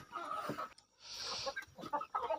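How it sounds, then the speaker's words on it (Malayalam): A healthy native breeding rooster clucks up close in short, uneven bursts with brief pauses between them, alone with no talk. "നാടൻ പൂവനാണ്"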